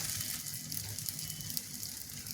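Puran dind dumplings roasting in a pan, a soft continuous sizzle and crackle held steady and close throughout, with no talk.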